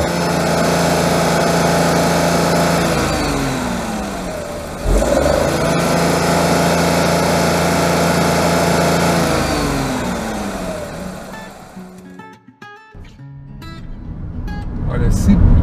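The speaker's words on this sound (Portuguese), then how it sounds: "o ruído é aquele ruído de motor clássico, de motor de 3 cilindros" A three-cylinder engine in a Chevrolet Onix Plus revs and pulls, its pitch sweeping up through gears, then drops toward idle with a few blips before rising again.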